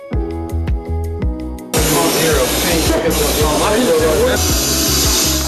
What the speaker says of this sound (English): This is a paint simulating spray booth.